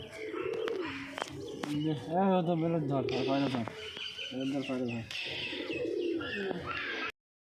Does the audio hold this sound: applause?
no